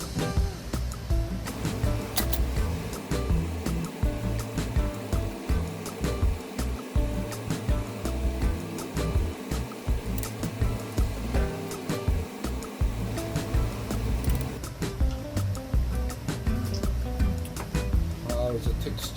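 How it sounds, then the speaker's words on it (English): Sardines and daikon simmer in a sweet-savory sauce, a steady bubbling and hissing boil running throughout with no break. "boiling down still"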